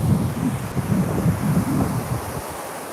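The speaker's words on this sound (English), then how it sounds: "the waves are behind me and I'm nervous now" Ocean surf rolls onto a beach in Vietnam at sunrise, a steady rumbling wash of breaking waves with wind buffeting the microphone, close and loud before easing off.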